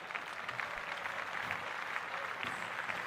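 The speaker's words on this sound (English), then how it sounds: "Clap that up for her." Applause from a small group on a podcast set, a steady wash of claps lasting about three seconds at moderate level with no talking over it.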